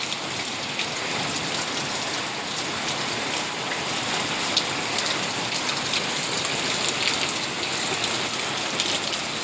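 Heavy evening downpour in Gordka village, Gadhada, Botad district: a dense, even roar of rain drumming on surfaces, close and continuous with no voices.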